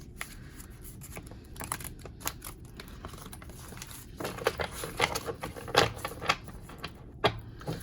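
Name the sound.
shuffling a deck of tarot cards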